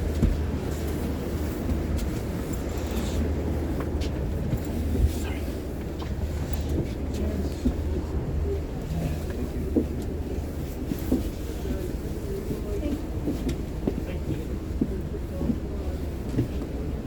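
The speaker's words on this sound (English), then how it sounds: "there's a HST crossing the bridge" An HST high-speed train crosses the bridge at Montrose Basin, a low, steady distant rumble running throughout with faint rattles, while people talk over it.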